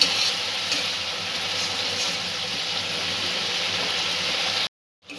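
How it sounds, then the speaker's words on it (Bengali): Onions frying in a pan, lightly browning for a malai egg curry with coconut milk, give a loud, even, continuous sizzle that stops abruptly near the end, with no talking over it. "পেঁয়াজটা হালকা ভাজা ভাজা হয়েছে।"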